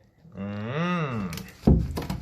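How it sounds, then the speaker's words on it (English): A drawn-out vocal groan rises and falls, then a bedroom door in a house being carpeted is forced open with a solid thud and a few bumps. "If I can get this door open."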